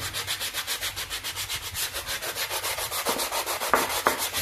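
Hand sanding a wooden mini racing boat hull with sandpaper: rapid, rhythmic back-and-forth rasping strokes, close and steady, with a couple of small knocks near the end and no talk.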